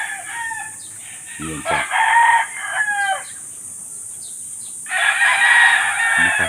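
Roosters crow on a gamefowl farm in Negros, several loud calls from near and farther birds overlapping, mixed with clucking. A person speaks briefly among them.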